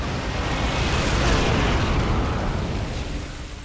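A dense roar of explosions and gunfire from the Medal of Honor: Allied Assault game fills the whole stretch as one loud, continuous rumbling blast that tails off slightly at the end.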